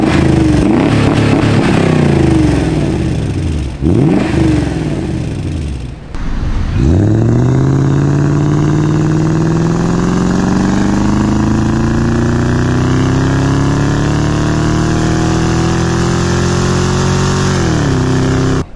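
A 1997 Mercedes-Benz S500 (W140) engine idles with a steady deep exhaust rumble, then revs upward with rising pitch, held loud and close for several seconds.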